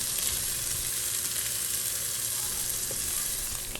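Onions frying in a pan for a cheesy spinach pasta sauce, a steady close sizzle and crackle with a few soft stirring clicks, no voices.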